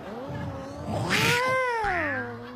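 A person imitates a cat's caterwaul, a drawn-out wailing yowl rising and falling in pitch, loud and close, followed by a second shorter howl.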